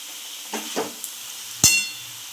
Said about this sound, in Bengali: প্রথমে দিলাম আলু ও ফুলকপি ভাজাটা